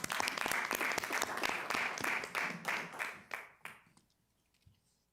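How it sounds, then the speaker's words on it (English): Applause at a firefighters pension board meeting honoring five years of service, a burst of many hands clapping that holds steady for about three seconds, then thins and fades into near silence. "Round of applause."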